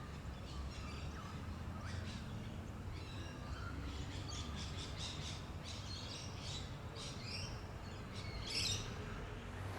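Little ravens call faintly in Wattle Park, an urban park in Melbourne, Australia. Scattered caws and chirps sound at a distance over a steady outdoor hum.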